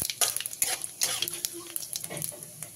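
Dry red chillies and half a spoon of panch phoron fry in hot oil, crackling and sizzling up close while a utensil stirs and clinks against the pan in quick irregular bursts.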